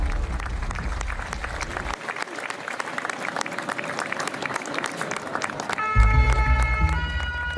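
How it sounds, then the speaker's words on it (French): A crowd on the streets of Paris at the Notre-Dame Cathedral fire breaks into spontaneous clapping and cheering for the firefighters, a steady dense patter of applause from many hands that carries on throughout. "les pompiers sont spontanément acclamés par la foule"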